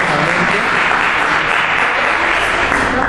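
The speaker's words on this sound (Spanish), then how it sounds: "Demos por favor un fuerte aplauso a Patricia" Audience giving a loud, sustained round of applause for a lecture speaker, steady dense clapping throughout with no break.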